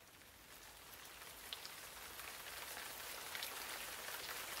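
Steady rain falls in a dense, even hiss of drops striking surfaces, holding constant at a low level with no voices.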